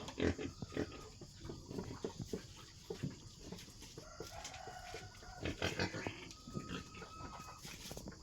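A pregnant wild boar crossbreed pig in a farm pen gives off grunts and snorts at a low, fairly faint level, while chickens cluck in the background.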